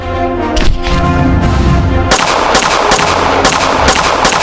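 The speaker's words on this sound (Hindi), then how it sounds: "वो तीनों लोग छुपकर मेहुल के ऊपर फायरिंग करने लगते हैं। मेहुल भी फायरिंग करने लगता है।" Gunfire in a film shootout: a rapid exchange of loud, sharp shots, first a dense burst, then evenly spaced cracks about every half second over a steady background.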